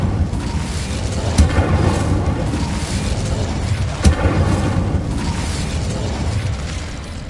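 Incendio fire spell effect from a Harry Potter video game: a rumbling, crackling burst of flame with two sharp pops, sustained roar throughout.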